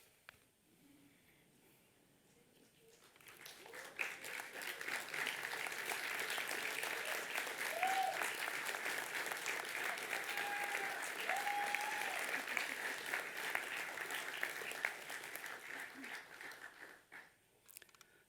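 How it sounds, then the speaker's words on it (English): Graduates at a university graduation ceremony applaud their family and friends, a broad swell of clapping that rises after a quiet start, holds steady for about ten seconds, then fades back to near silence. "give them a rousing round of applause because they too have earned it"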